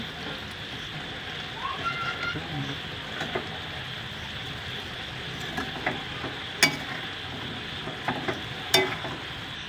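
Fried nuts, coconut and raisins, then vermicelli, go into a pot of boiling water, heard as a low bubbling simmer with soft scattered splashes and a couple of sharp clinks near the end.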